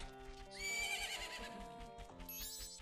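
A horse whinnying in The Legend of Zelda: Majora's Mask, a loud drawn-out neigh rising and falling over game music, with clip-clop hoofbeats.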